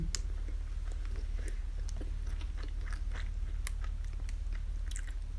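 Bites and chewing of a Frank Burger bacon cheeseburger, close and steady with soft crunchy bursts over a constant low background hum, no talking.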